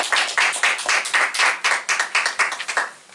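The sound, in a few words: congregation clapping in welcome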